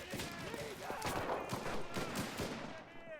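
Dense, rapid gunfire rattles through a desert battle in the World War II shooter Enlisted, with overlapping bursts and single cracks crowding together at close range.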